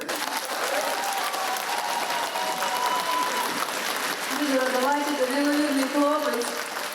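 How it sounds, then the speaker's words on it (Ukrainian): An audience at a concert of contemporary Ukrainian music applauds in a steady wash of clapping, while a voice speaks over it in the first half and tonal music or singing rises toward the end. "Ваші оплески!"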